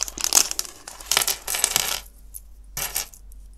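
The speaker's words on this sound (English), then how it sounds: "So these are like gummy bear paper clips." Small metal gummy-bear-shaped paper clips handled in a set, jingling and clinking against each other in several loud close bursts with short pauses between, no talking.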